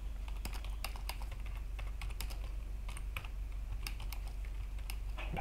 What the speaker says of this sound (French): Je suis en train d'écrire le code.